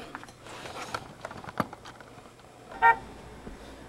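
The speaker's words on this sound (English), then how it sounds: "He does have some sounds in alt mode. He'll honk his horn." A Transformers Ultimate Bumblebee toy in Chevy Camaro car mode gives a short electronic horn honk, a single bright burst near the end, after soft handling clicks and light tapping noises.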